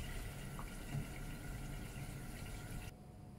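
Water rinsing off steel pieces after a household cleaner has removed mill scale: a steady, soft running-water wash with no voices, cutting off abruptly near the end.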